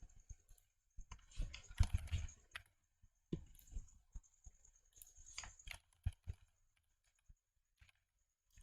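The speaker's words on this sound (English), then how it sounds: "All you have to do is click on a cell and start typing to enter a data." Keyboard typing while entering data into cells of a spreadsheet, heard as quiet irregular clusters of clicks and key taps with brief pauses, close and faint with no talking.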